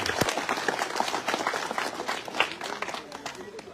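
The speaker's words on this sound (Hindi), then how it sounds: "आप जोरदार तालियों के साथ उनका अभिनंदन करें।" A crowd at a village blanket-distribution gathering claps in a quick, scattered burst of applause, fairly faint and close to the microphone, with a little background voice mixed in.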